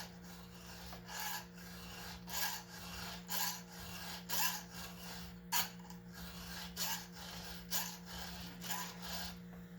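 A hand file rasps across a chainsaw chain to sharpen it, in about a dozen evenly spaced, rhythmic strokes against a steady low machine hum, close and moderately quiet.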